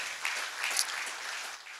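Audience applause at a handball league press and presentation event, a steady wash of many hands clapping at moderate volume with no one talking over it.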